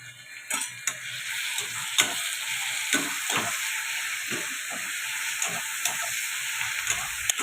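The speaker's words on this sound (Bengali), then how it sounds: "লঙ্কাটাও ভাজা হয়ে গেছে" Green chillies frying in a pan with garlic and half-fried onion for a restaurant-style chicken curry, giving a steady close sizzle broken by scattered stirring clicks and scrapes, with no talk.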